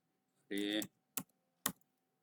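A brief voiced sound is followed by two separate, crisp key taps on a computer keyboard, close and quiet in a still room.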